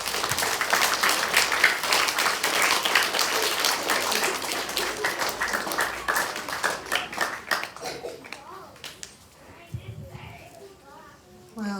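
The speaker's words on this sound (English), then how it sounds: "Please give these recipients a round of applause." Schoolchildren at a school assembly applaud the award recipients. The loud, crackling clapping gradually thins into scattered claps, with children's voices and chatter mixed in toward the end.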